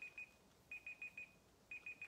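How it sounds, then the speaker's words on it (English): A timer alarm goes off with quick, fairly faint electronic beeps in repeated bursts of two or three, separated by brief pauses, with no talking. "All right, that's our timer."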